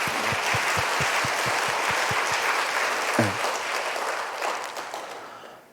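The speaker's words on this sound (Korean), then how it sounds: "우리 박수 한번 격려하겠습니다" A church congregation applauds its choir after a sermon remark, steady dense clapping filling the room for several seconds, then thinning and fading toward the end.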